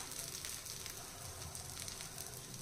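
Cumin seeds sizzling in hot oil on a dosa on the griddle, a continuous close crackling fry with dense popping spatters and no voice over it.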